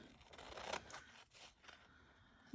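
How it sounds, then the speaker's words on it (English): Large scissors snip through Stamperia rice paper in a few short crisp cuts and scrapes, close and quiet, with no voices. "Let's grab some big scissors"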